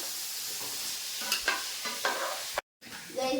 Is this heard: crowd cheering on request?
no